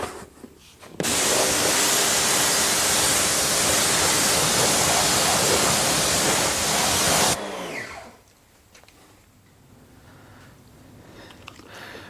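A loud, steady broadband spray of rinse water hits a car during a detailing wash and runs for about six seconds before cutting off to quieter dripping and background noise.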